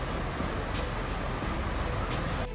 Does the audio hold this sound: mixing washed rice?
no